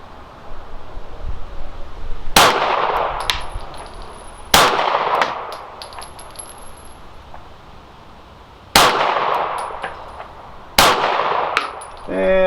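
A Bul Armory Axe 9mm pistol fires at steel targets outdoors, four sharp shots spaced a couple of seconds apart, each followed by a ringing metallic clang from the struck plate.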